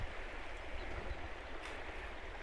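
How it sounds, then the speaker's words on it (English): Water of a babbling brook at Skarfos Bridge rushes in a steady, even wash, close and continuous without any voices. "babbling brook and admire nature."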